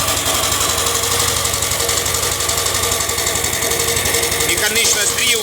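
A homemade petrol generator engine runs loudly and steadily up close, a continuous knocking drone with rattling vibration throughout.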